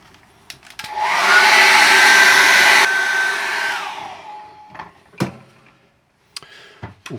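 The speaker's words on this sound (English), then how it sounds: "so I'm going to dry that off with a hairdryer." A hair dryer switches on and blows steadily for about three seconds to dry acrylic paint on a landscape painting, its airy whine dropping in pitch and fading, followed by a few sharp knocks and clicks.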